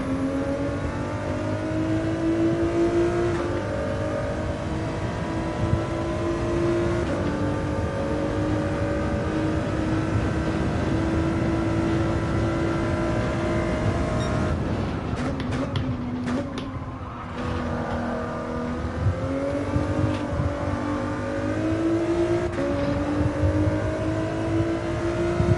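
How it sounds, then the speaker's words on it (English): In Gran Turismo 7, a car's engine drones and revs steadily for a long stretch, rising and falling as it goes through corners, with a brief rough, scraping moment partway through before it pulls away again. "This car wants to go from understeer to oversteer in the blink of an eye."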